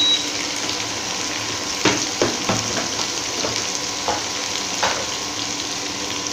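Ginger and garlic paste frying in a pan, a steady close sizzle with several sharp stirring scrapes and pops, no talking.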